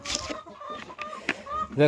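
Fancy-breed hens clucking softly amid a busy coop on a chicken farm, with someone talking throughout and a louder squawk near the end.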